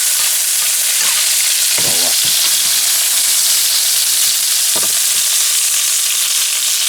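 Quail sizzles and spits loudly in a frying pan while being basted, a dense, constant frying hiss with a couple of brief clinks and stirring sounds mixed in.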